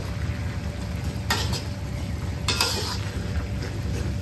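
Sweet leaf shoots cooking in a pan with pork luncheon meat, a continuous sizzle and stir with two brief bright clinks of a utensil against the pan, no voices.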